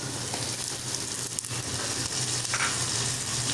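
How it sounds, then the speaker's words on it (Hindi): Blended onion paste hits frying mutton liver in a pan, giving a steady close sizzle throughout with a faint low hum underneath and a brief stir near the middle. "अब ये जो हमने प्याज ब्लेंड किया हुआ था अब हम वो डाल देंगे इसमें"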